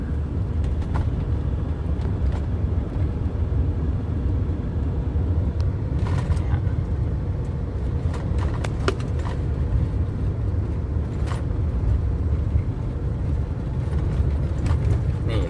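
Inside a vehicle coasting downhill with the accelerator released, a steady low road and engine rumble carries on throughout, with occasional light rattles and knocks and no clear talking.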